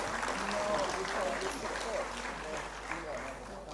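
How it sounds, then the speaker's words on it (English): Broad, steady applause from a conference plenary audience at an education and skills event, sustained and fairly even throughout with voices mixed in beneath the clapping. "Let's have a huge round of applause."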